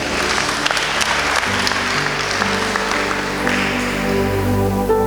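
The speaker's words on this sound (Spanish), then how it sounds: "Démosle un fuerte aplauso." A congregation in a church bursts into loud, sustained applause that fills the whole stretch at an even level, with faint tonal sounds running underneath.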